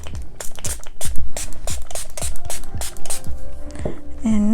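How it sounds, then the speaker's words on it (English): Water spritzed from a spray bottle onto wet watercolor paper in a series of about a dozen sharp, close hissing bursts at an irregular rhythm. "use your spray"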